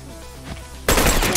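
Sudden burst of loud video game gunfire in Factions, cutting in after a quiet stretch and carrying on dense and close to the end.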